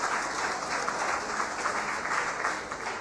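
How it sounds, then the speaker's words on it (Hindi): Applause from a bootcamp class audience fills the whole stretch as a steady, dense wash of many hands clapping, with no voices on top. "पहले तालियां होनी चाहिए"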